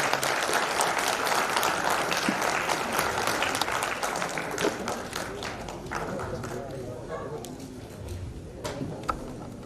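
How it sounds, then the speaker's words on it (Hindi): Sustained audience applause, many hands clapping densely and steadily, gradually thinning toward the end. "मैं चाहूंगा कि हमारे कलाकारों के लिए आज की जोरदार तालियां।"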